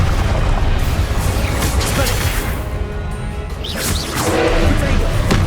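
Confringo spell blasts in Hogwarts Legacy, dense booming explosions layered with crackling debris, loud and continuous with a brief dip before another burst, mixed with battle shouts.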